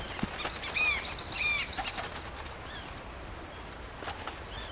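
Birds in Guarma in Red Dead Redemption 2, a short run of bright chirping calls with soft wing flutter, fairly close, over a quiet outdoor ambience, fading into a few sparse calls.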